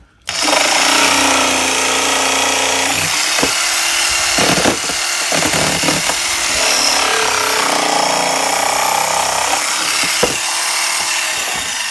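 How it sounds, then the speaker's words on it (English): A jigsaw cuts a speaker opening into a car panel: a loud, steady rasping buzz that runs nearly the whole time, broken only by a few brief dips and pauses. "then you'll take your jigsaw,"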